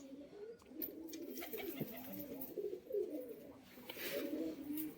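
Caged pigeons cooing close by, low throaty repeated coos overlapping in an uneven rhythm at a quiet level, with no talk over them.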